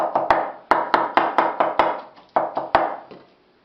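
A knife chops peeled eggplant on a board for an Adana kebab dish, about a dozen sharp close knocks in an uneven rhythm with brief pauses between bursts, no voices.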